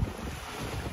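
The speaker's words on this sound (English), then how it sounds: "The waves have picked up." Waves slap against a sailboat on open Lake Michigan in 2-3 foot seas, a steady low wash mixed with constant wind buffeting the microphone, no voices.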